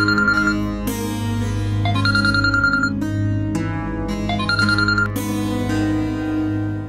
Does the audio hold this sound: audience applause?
no